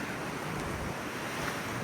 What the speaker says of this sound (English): Just get to hear the waves